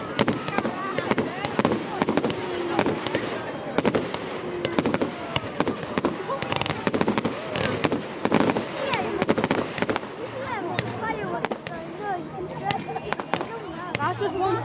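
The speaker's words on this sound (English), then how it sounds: "That's just one firework." Fireworks bang and crackle repeatedly at a bonfire night event at Haigh Hall, dense sharp bursts overlapping continuously, with crowd voices and talk underneath throughout.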